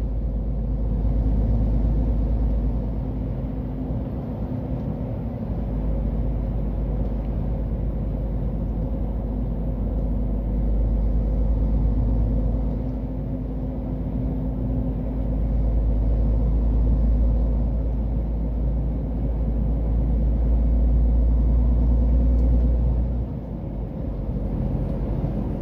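A car crosses the François Mitterrand bridge over the Garonne in Bordeaux at rush hour, a steady low road and engine rumble from inside the cabin, swelling and easing slightly, with no talking.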